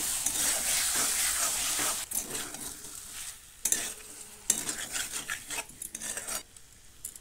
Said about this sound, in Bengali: এবার সেদ্ধ করা আলুগুলো দিয়ে ভালো করে মিশিয়ে নিচ্ছি